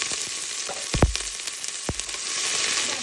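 Peppercorns, allspice berries and onions fry in a hot soup pot, a steady close sizzle broken by two sharp bursts of crackle and clatter as ingredients drop in.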